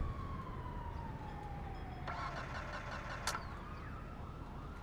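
Police sirens wail in Grand Theft Auto 5, one tone sweeping down and then a fresh siren cutting in nearby, over a low rumble of traffic.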